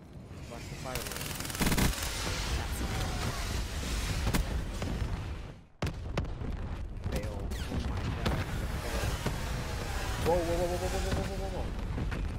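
Rolling Thunder airstrike in Call of Duty Black Ops III: dense, continuous rolling gunfire and explosions filling the whole stretch, loud and sustained with a brief drop near the middle, with game voices faintly mixed in.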